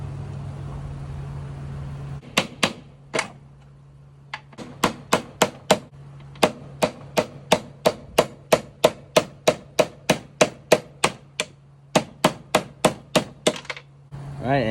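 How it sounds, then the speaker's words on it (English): Sharp metallic hammer blows striking a chisel to remove a metal collar from a motor, dozens of rapid ringing hits in an uneven rhythm, loud and close over a low motor hum. "Hammer and a chisel."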